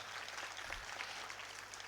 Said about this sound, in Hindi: इस बच्चे के लिए जोरदार तालीम दें।